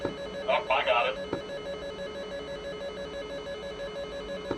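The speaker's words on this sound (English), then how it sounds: "I'm hearing the ringing." A ringing missile-launch warning tone in a combat flight game: a steady repeating tone runs through the whole stretch while a short burst of radio-style voice chatter comes in near the start.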